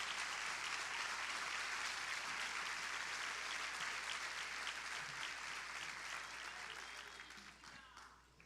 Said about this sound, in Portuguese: dê a melhor salva de palmas que você pode dar ao nome de Jesus